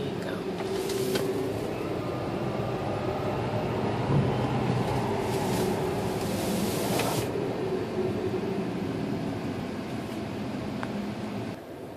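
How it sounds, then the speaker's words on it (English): A Tesla Model S accelerating hard from 20, a steady cabin rumble with a rising whine under road noise, continuous for several seconds and fading slightly at the end. "I'm going to put my foot down on the gas right now"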